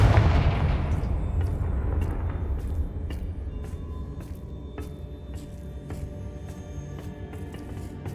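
A Confringo fire spell explodes in the video game Hogwarts Legacy: one heavy, loud boom opens and decays into a long rumbling tail, with faint sharp crackles and clicks scattered over it.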